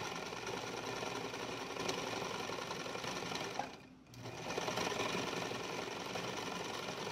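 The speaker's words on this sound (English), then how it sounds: "I'm going to stitch 5/8 and then 4/8 all the way around" A sewing machine runs a straight stitch along a seam, 5/8 then 4/8 from the edge, in a steady close whir that drops out briefly near the middle before resuming, with no talk.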